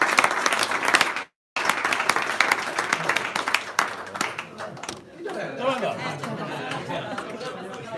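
Audience applause at a book presentation in Cogne, with dense clapping and chatter that break off briefly, carry on strongly, then thin out as a voice starts talking.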